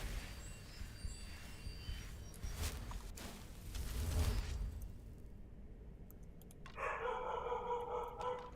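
A dog companion in the video game Skyrim barks a few times amid combat swooshes and footsteps, fairly faint and mixed with game effects, then chiming menu-like tones near the end.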